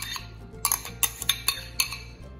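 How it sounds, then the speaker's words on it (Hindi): A utensil mixes mashed potatoes for aloo corn tikki in a bowl, giving a series of about six sharp clinks and scrapes at an irregular rhythm, close and clear, with no talking. "ये मैंने आलू मैश कर लिए। अब हम इनको मिक्स करते हैं।"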